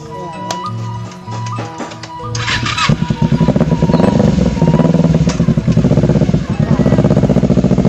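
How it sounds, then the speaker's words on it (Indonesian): A Ninja motorcycle engine starts after a couple of seconds, then idles and revs in a steady, rapid pulsing close by on a village road, with people talking over it. "Motor ieu, motor ninja ngaranna."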